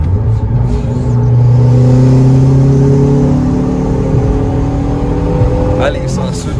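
A turbocharged Chevrolet Corsa accelerates on a highway, its engine note climbing steadily in pitch through the gears, loud and close from inside the car, with a brief shift-like change near the end.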